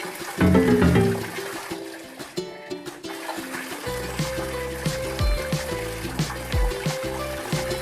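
Water is poured over the body while bathing in a bathroom: a loud splashing gush at first, then irregular trickling and dripping that continues nearby.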